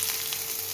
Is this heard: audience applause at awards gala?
no